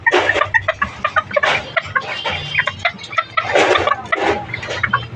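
A rooster and chickens cluck and call nearby in bursts, with water running in the background.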